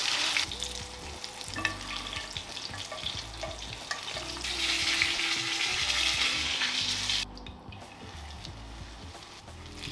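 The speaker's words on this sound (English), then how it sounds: "I fried off a couple of the fresh sage leaves as well, just for that extra crisp" Fresh sage leaves frying in oil, a steady close crackling sizzle that carries on for several seconds with faint clicks and stirring, then drops suddenly quieter near the end, no talking.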